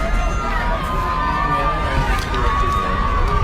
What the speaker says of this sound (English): And the crowd's a little more excited and everything now, too, here